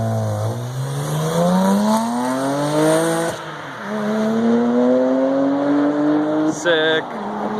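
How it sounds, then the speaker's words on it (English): A tuned twin-turbo BMW 335xi revs loudly up close, its engine note sweeping upward in long rising pulls, easing off, then climbing again, with a brief sharp noise near the end. "this thing is stupid loud."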